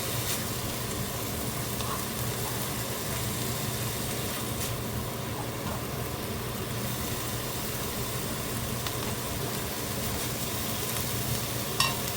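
Pork stir-frying in a pan with leeks and onion for mapo tofu, a continuous soft sizzle with occasional scraping stirs, close and steady without talk.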